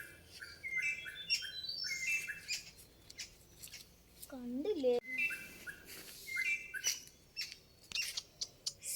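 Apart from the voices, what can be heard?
baby birds chirping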